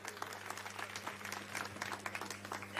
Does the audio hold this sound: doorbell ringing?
no